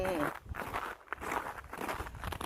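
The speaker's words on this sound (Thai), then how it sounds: "ได้ยินเสียงเดินไหมคะ ก๊อบแก๊บก๊อบแก๊บก๊อบแก๊บ" Footsteps crunch over an icy snow crust beside a lakeside field hut, a steady run of crisp close steps under a soft voice talking.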